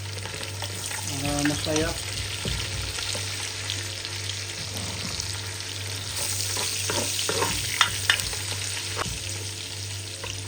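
Chopped onion fries in a hot pan, a continuous sizzle with scraping stirs throughout and a steady low hum underneath; a voice speaks briefly near the start and again later.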